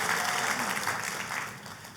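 Church congregation applauding at a sermon, a dense, steady wash of clapping that fades slightly toward the end.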